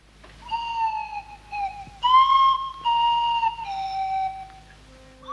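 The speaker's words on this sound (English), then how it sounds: "the sound is coming from the swanny whistle" Slide-whistle phrases in the voice of The Clangers, made on a swanny whistle, glide and wobble through several short held notes and bends, soft and close over a faint low hum.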